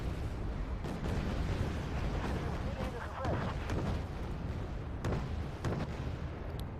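Missile launches and impacts in the real-time strategy game Wargame: Red Dragon, a dense continuous rumble with several sharp bursts standing out, loud and close, with voices talking over the action.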